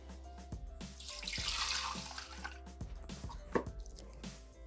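Water trickles and drips into the bowl of a Thermomix TM6 kitchen machine, a soft splashing pour with irregular small drips and clinks, quiet and close, no talking.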